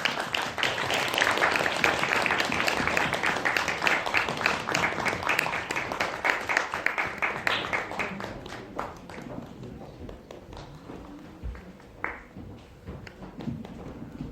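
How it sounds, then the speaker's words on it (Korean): Loud, sustained applause from a film talk-event audience as actors come forward, dense clapping that gradually thins and fades toward the end. "앞으로 나오시면 큰 박수 부탁드릴게요."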